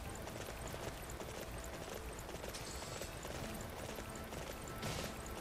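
Hooves of a horse in the video game Dynasty Warriors 9 clatter in a fast, continuous galloping rhythm, fairly quiet and steady, with a brief louder burst near the end.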